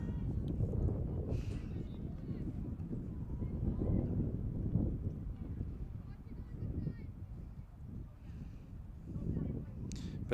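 Steady low wind buffets the microphone with a constant rumble atop a press box at a girls' varsity soccer game, while a voice talks faintly underneath.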